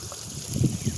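Water runs from one fish pond into the neighbouring pond, a steady rushing flow with low, gurgling swells, heard up close with no voices.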